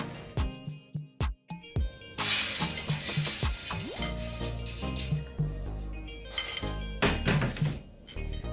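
Caramel-coated puffed rice murki is scraped and tipped from a pan into a bowl, with clinks of a utensil against metal, crunchy rattling of the clustered pieces and a sizzling, scratchy scraping throughout.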